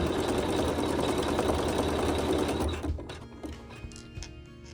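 A sewing machine quilts a fabric block with a steady, dense mechanical whir that stops near the end, leaving a few faint clicks and rattles.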